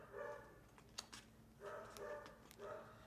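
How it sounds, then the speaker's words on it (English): Several dogs bark in faint, scattered bursts somewhere behind a live in-studio autograph signing, with a few sharper yips cutting through low room noise. "it's the dogs are all crazy"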